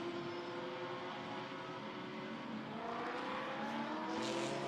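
GT4 race cars, a BMW and a McLaren, lapping the Hockenheim circuit in a European Series race, engines droning steadily at high revs with a rising pitch as they close in, loud and continuous.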